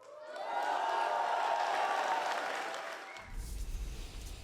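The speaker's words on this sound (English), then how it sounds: "please, give a big round of applause for the members and voters of the Croatian Democratic" Crowd applause and cheering for members and voters of the Croatian Democratic Union at a political election event, a broad roar of clapping with some whoops that swells, then drops off as a low rumble takes over.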